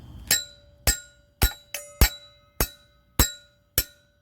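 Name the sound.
hammer striking screw in pool ladder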